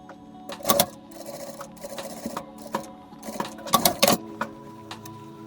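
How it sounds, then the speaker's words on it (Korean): A sewing machine stitches closed the elastic opening in a women's pajama waistband, a close, loud mechanical whir with rapid needle ticking, pausing and restarting in short runs. "고무줄 끼운 이 창구멍 이 부분은 다시 박음질로 마감해 주시면 됩니다."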